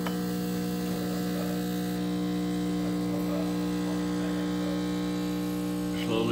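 A Turin Legato espresso machine pump runs as a steady, even hum with a faint buzz while pressure builds, holding constant throughout with no talking.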